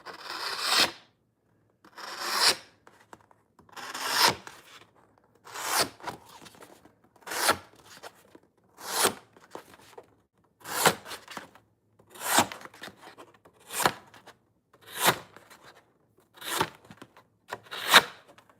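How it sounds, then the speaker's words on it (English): A knife is drawn through a knife sharpener in about a dozen evenly spaced rasping strokes, each a short gritty scrape roughly every one and a half seconds, close and clear with quiet gaps between. "This is a really good knife combined with a really good knife sharpener."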